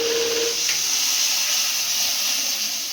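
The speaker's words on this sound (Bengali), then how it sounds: "ডাল সিদ্ধর জলটা দিয়ে দিলাম।" Dal cooking water poured into a hot pan gives a loud, steady steam hiss that holds at full strength for several seconds, with no voices.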